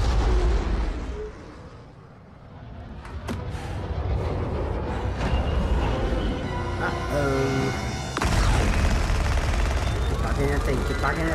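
Gunfire in the video game Mortal Kombat 11 sounds as dense, loud rattling bursts and booms, with a dip in the middle and people talking over it.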